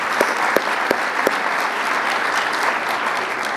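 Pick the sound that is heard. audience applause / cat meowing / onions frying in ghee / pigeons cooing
audience applause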